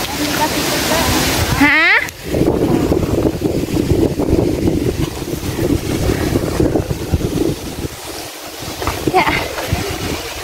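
Nadsadjan Falls waterfall roaring steadily and loudly throughout, with wind buffeting and a few people talking briefly over the rushing water.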